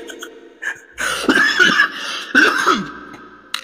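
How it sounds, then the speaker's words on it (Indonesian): A person who is feeling dizzy and sick with a headache lets out several harsh, clustered coughing bursts. The coughs are close and loud, with quieter breathy sounds between them. "Sampai batuk saya."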